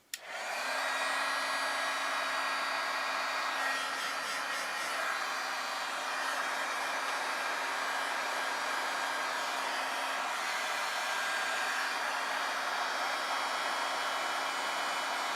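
A heat tool melts embossing powder on a card, giving a steady, close blower whoosh with a constant hum. It starts abruptly and runs without pause for about fifteen seconds, with no talking.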